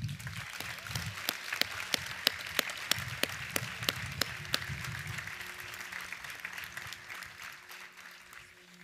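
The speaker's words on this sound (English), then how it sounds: "Can we give Faye a round of applause?" Applause from a 2023 commencement audience in a large hall, with a handful of sharp, distinct claps standing out over a softer wash of crowd clapping that gradually thins and fades toward the end.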